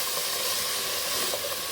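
Mixed vegetables frying under a lid in a pan over a low flame, giving a steady, even hiss and sizzle that stays close and unbroken.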